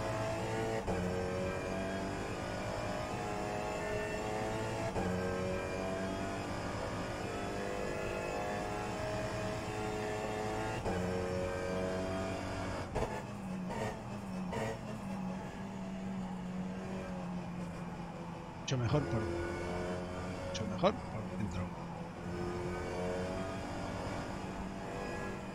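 Race car engine in the rFactor 2 sim racing game at Teretonga in the rain, a steady layered drone that holds for most of the stretch, then thins out with a few short rises and clicks near the end.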